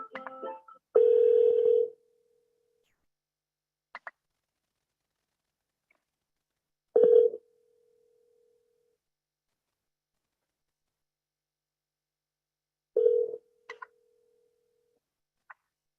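Telephone tones sound while a bank call is put on hold for transfer: short beeps and a long steady tone, then two more brief tones spaced several seconds apart with silence between, each followed by faint clicks.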